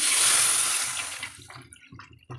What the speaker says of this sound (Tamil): இப்போது புளி கரைச்ச தண்ணியை இதில் ஊற்றிக்கலாங்க.